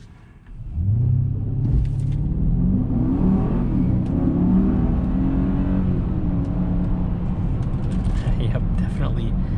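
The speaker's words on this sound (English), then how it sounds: "let's go ahead and keep it in sport mode and do another acceleration with this SUV being in sport mode" A 2021 Mercedes-Benz GLE 580 SUV in sport mode accelerates hard from inside the cabin, a loud, deep engine rumble that swells and holds with rising tone over nearly ten seconds.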